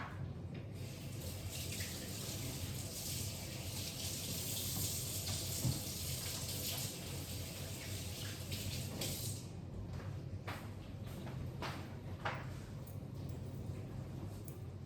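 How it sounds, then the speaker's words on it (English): A kitchen tap runs while hands are washed under it during vegan donut making, a steady faint stream of water with soft splashes and a few light clicks toward the end. "Let me wash my hands"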